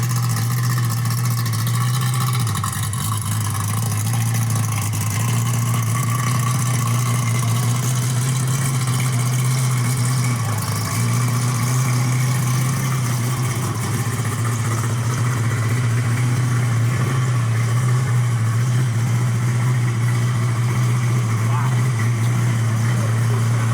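A highly tuned Porsche 964 RWB engine idles loudly and steadily close by, a deep continuous drone with slight rhythmic wavering, while people talk over it.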